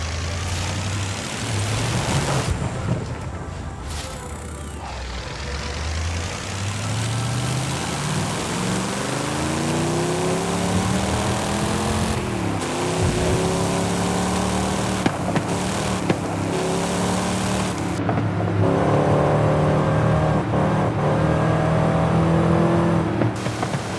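A Volkswagen Golf GTI engine revs and drones through Forza Horizon 5, pitch climbing and dropping through gear changes as the car accelerates, loud and continuous with occasional whooshes of passing traffic.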